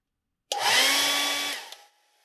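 A hair dryer runs alone in one close, loud burst of about a second and a half, drying a watercolor painting of a cheetah, then cuts off with a short fading whir.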